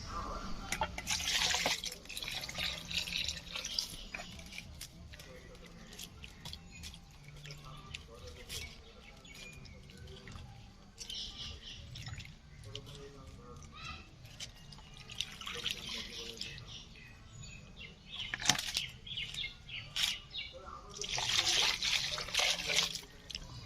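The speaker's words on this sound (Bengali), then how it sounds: "তো এই কাঁচা লঙ্কা, ধনিয়া পাতা আর পেয়ারা খুব ভালো করে ধুয়ে নিচ্ছি।" Green chillies, coriander leaves and guavas being washed in water, with intermittent trickling and splashing bursts over steady outdoor background noise and chirping birds; a voice talks throughout.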